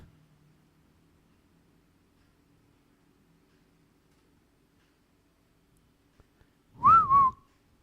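A single short whistled phrase of the tune from The Breakfast Club rings out clearly near the end after long quiet, with two brief clicks just before it.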